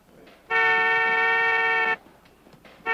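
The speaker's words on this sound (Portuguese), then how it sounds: "Quem é esse maluco que está buzinando?" A car horn blares in one loud, steady, sustained honk lasting about a second and a half, close by, in a 1989 Brazilian comedy film scene; a second honk starts just as the sound cuts off.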